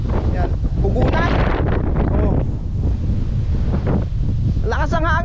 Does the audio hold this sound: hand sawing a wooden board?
no